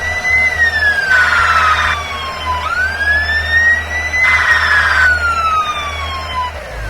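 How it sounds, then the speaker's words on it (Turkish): A cartoon fire truck siren from a children's vehicle game wails in loud, sweeping rising and falling tones, alone and continuous throughout. "İtfaiye arabası"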